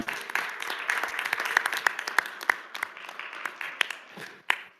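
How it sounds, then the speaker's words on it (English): An audience at a board of directors meeting applauds a graduating cohort, with scattered hand claps that start full and thin out into sparse individual claps and a final loud clap near the end. "Let's give them all a round of applause."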